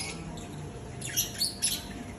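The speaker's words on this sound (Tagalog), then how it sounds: "Parrot. So many birds. Wow, so nice these birds." Pet parrots calling, three short shrill squawks close together near the end over quiet background hiss.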